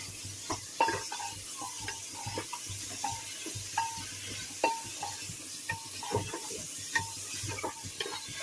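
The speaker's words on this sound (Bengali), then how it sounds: "আমি পেঁয়াজটার মধ্যে তেল গোশটা দিয়ে একটু ভাজা ভাজা করে নিই" Meat and onions sizzle steadily in hot oil while a utensil scrapes and stirs the pan at irregular intervals, close and fairly quiet, with no talking.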